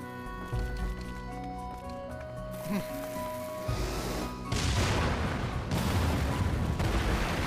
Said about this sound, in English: They got bombs to do it.